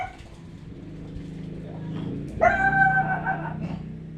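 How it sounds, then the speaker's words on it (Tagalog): A family dog gives a short burst of yips and whimpering barks near the middle, close by and loud, rising over indoor room noise. "Ang sobrang ingay lang ng aso namin"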